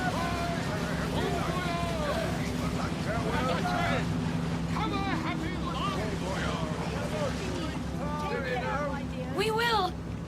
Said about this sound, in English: Listen, the engines are starting again.